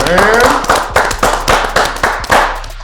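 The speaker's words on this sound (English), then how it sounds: "Let's get a clap up in here tonight," Rhythmic, evenly spaced hand claps ring out loudly from a group, with a voice briefly heard at the start.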